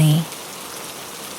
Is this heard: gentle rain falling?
yes